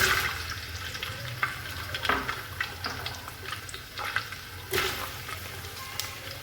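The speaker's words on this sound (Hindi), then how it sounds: "तो घी तकरीबन गर्म है, इसके अंदर प्याज शामिल करेंगे" Onions go into hot ghee in a pan and fry with a steady, close sizzle and crackle, broken by a few louder bursts of hissing as they are stirred.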